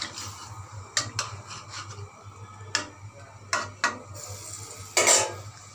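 A spoon knocks and scrapes against a pot while fish head and radish curry is stirred, with sharp irregular clinks spread over a low steady hum, close and moderately loud, no talk.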